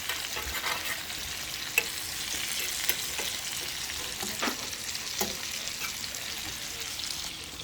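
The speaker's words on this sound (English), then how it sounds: "I'm just going to finish this up and kind of saute it in this butter, garlicky sauce." Fish cooks in a garlicky butter sauce, with a soft, steady sizzle running throughout and occasional light stirring taps from a utensil, close and fairly quiet.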